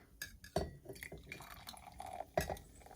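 Foamed milk pours softly and dribbles into a ceramic mug with a couple of sharp clinks, close by and fairly quiet.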